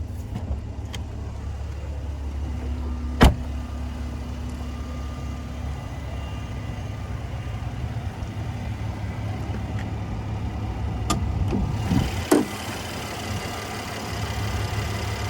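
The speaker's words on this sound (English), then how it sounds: "There's that 3-liter twin turbo V6." A 2018 Mercedes-Benz C43 AMG's 3-liter twin-turbo V6 idles steadily in a low, even hum, heard close up, with a couple of sharp clicks and a slight swell near the end.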